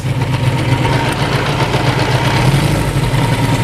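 A Suzuki GS1000 motorcycle engine idling during a carburettor tune, a loud, steady low rumble with an even mechanical pulse, heard up close without speech.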